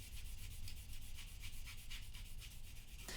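A nail buffer rubs lightly and rapidly across a classical guitarist's fingernail, making a soft, even rhythmic scratching of quick back-and-forth strokes, close and quiet with no talking.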